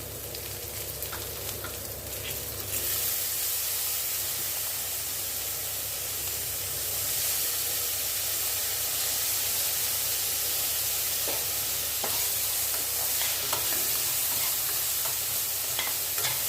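Onion and tomato sautéing in oil with a little butter, a dense, steady sizzle that swells louder after a few seconds and holds close and continuous with faint occasional clinks.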